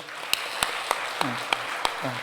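A church congregation at a Sunday worship service claps in unison, six sharp, evenly spaced claps in a steady rhythm, with voices faintly calling out between the beats.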